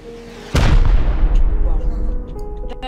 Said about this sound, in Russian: Вот это, кстати, нормальная ракета была